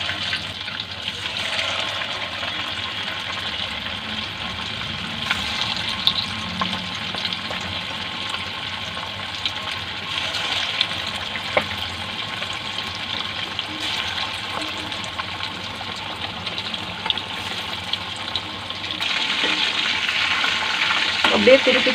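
Chicken 65 deep-frying in oil over a medium flame gives a steady, close bubbling sizzle that carries on evenly throughout.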